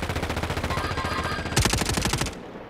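Rapid automatic gunfire in a video game, a fast rhythmic burst of shots that grows louder and harsher midway before cutting off, with no talking over it.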